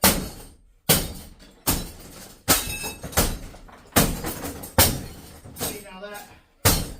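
Heavy metallic smashing blows of a hammer crushing thin copper air-conditioning tubing in a bin strike about every second, each a loud broadband crash that rings and rattles briefly before the next hit.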